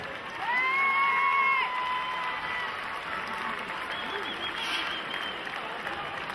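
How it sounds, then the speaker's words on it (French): Crowd at a karate team match applauding the referees, sustained clapping mixed with cheers and whistle-like shouts at first, then settling into steadier clapping that stays moderately loud. "applaudissez le corps arbitral"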